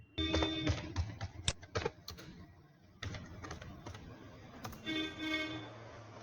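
Rapid keystrokes on a computer keyboard while entering data into a LibreOffice Calc spreadsheet, a close, steady clatter of clicks in quick bursts with short pauses between runs.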